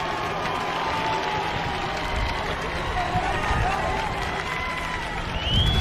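A Harvard home crowd at a college lacrosse game against Yale roars after a goal, a steady broad wash of cheering and applause that swells slightly near the end, with talk layered over it.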